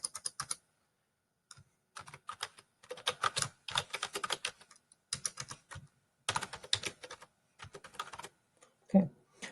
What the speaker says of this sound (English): I just need to type the rest of this real quick